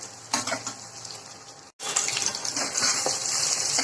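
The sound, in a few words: potatoes frying in a pan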